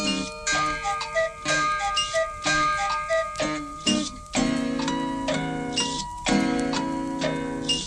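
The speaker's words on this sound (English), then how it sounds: "All of them chiming or whirring or clicking, cuckooing or ringing or tick-tock ticking." Several clocks tick, chime and whir together in a busy, tuneful cluster of bell-like tones and clicks, with sustained chiming ringing out through the second half.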